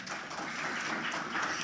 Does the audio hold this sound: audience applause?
yes